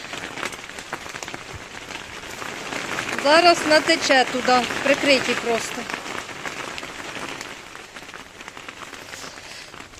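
Rain falls steadily in a soft, continuous hiss over a dacha garden plot while a person talks nearby partway through.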